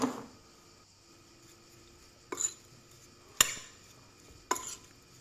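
A few separate scraping clinks of a utensil stirring a smoked beet and brynza cheese salad in a bowl, spaced apart with quiet between them, close by and with no talking.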